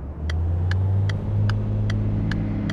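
A car engine rises in pitch and loudness as the gas pedal is pressed during a driving lesson, with a steady close engine hum and a series of regular sharp clicks, like a turn signal ticking, over it.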